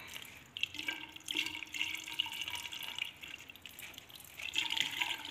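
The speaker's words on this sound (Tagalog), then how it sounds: "Lagyan na natin ang tubig." Water pouring onto potted plants during garden watering, a steady splashing and trickling stream that swells and eases, fairly close and moderately loud, with no talking.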